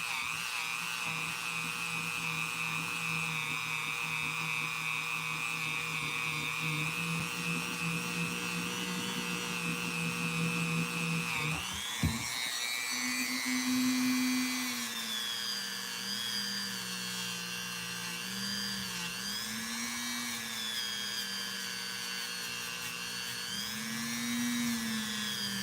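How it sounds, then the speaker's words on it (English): A Dremel rotary tool polishes a Case trapper knife blade with polishing compound, giving a steady high-pitched whine that dips and rises in pitch as it bears on the steel, loud and continuous throughout. "I hope this Dremel's not too loud"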